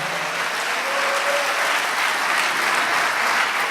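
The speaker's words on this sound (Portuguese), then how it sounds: "aplauda Jesus comigo nesta noite especial" Congregation applause during an evening church teaching session, dense steady clapping from a large crowd filling the room, sustained and even throughout.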